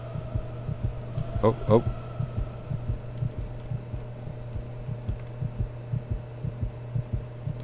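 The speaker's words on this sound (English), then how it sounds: "The heartbeat's getting bigger." A steady heartbeat thumps from the Roblox horror game Before The Dawn, with regular low double beats pulsing over a droning hum. A player briefly exclaims partway through.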